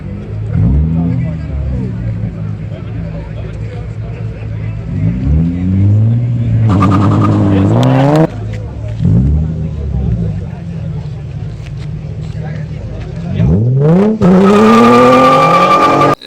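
A Dodge Charger R/T-style car staging and launching at a drag racing event: the engine idles and rumbles, then twice revs sharply upward in loud rising sweeps, close and heavy.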